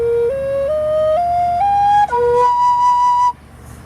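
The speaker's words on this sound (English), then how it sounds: "So let's see what it sounds like" A handmade four-hole Native American flute plays a clear, breathy tone that steps upward note by note, then holds a higher note before cutting off, alone and close.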